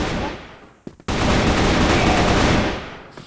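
Rapid automatic gunfire in a video game bursts out loud and close, breaks off for a moment, then resumes as a long continuous stream of shots.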